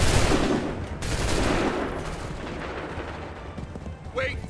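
Musket volley gunfire from a battle in the video game Assassin's Creed 3, a loud dense burst of overlapping shots that rolls on and slowly fades, with faint shouting underneath.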